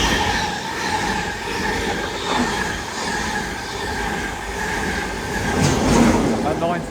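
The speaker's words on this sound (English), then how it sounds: "passing through now is another LNER 225 set en route from Bradford Foster Square to London King's Cross" An LNER 225 set passenger train on the East Coast Main Line at Alexandra Palace, running from Bradford Foster Square to London King's Cross, rumbles past steadily and close for the whole stretch, swelling slightly near the end, with faint voices underneath.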